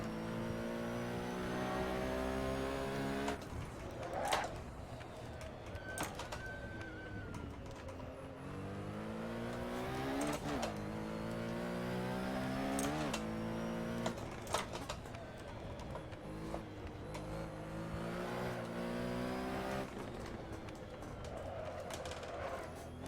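An AC car's engine revs and changes gear on the track at the Goodwood Festival of Speed, its note climbing and dropping repeatedly in a steady, moderately near run, with a few sharp clicks and no talking.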